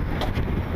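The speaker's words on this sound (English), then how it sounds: "Sorry if the wind is active" Wind blows hard across a microphone outdoors, a steady low rumbling buffet lasting under a second with no other sound.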